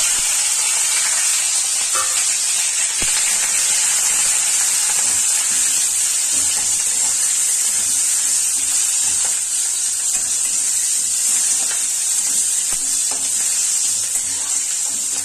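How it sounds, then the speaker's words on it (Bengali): Steady loud sizzling of onion and capsicum frying in hot oil, a continuous bright hiss with occasional faint clinks of stirring. "একটু লাল হয়ে আসলে পেঁয়াজ আর ক্যাপসিকামটা দিয়ে দেবো।"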